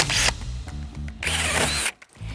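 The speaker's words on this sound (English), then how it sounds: "with the spade bit provided, drill the hole for your hose" A power drill with a spade bit bores a hose inlet hole in a plastic water tank, two loud whining bursts close up separated by a brief lower spin, with a short stop before the end.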